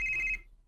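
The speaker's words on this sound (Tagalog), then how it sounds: "bagting na sa cellphone, Sarah." A cellphone rings with a steady electronic trill that stops abruptly after a fraction of a second, leaving near silence, at moderate volume with no talk over it.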